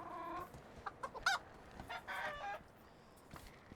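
Chickens cluck in a medieval village in the Medieval Dynasty video game, several short clucks and one louder squawk standing out over a quiet outdoor background, fairly close by.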